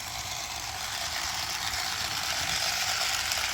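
A steady mechanical whir and buzz from an old Walthers F40PH model locomotive motor, continuous and fairly close, with no talking.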